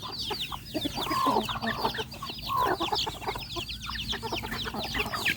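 Free-ranging chickens on a rural Thai farm in Surin cluck steadily in a dense, overlapping flock, with a couple of louder drawn-out calls standing out nearby and no talking.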